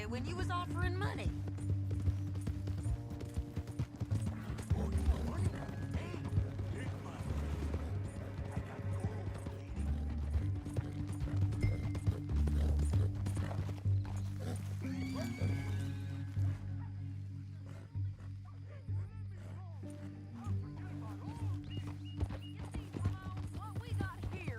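Horse hooves clip-clop steadily through a Red Dead Redemption 2 scene with music and occasional talk, a horse whinnying at moments amid game sound effects.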